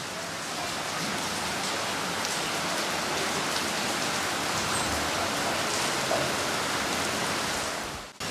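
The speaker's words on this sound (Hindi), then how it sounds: "इधर देखिए बारिश भी हो रही है" Steady rain falls throughout, a dense, even hiss of drops on surfaces outdoors, constant and fairly loud with no talk over it.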